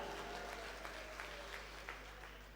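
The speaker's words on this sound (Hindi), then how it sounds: "तो ताली बजाओ एक बार जरा।" Audience clapping at a Hindi poetry recital, a steady, moderately faint patter of many hands over a low constant hum, gently tapering toward the end.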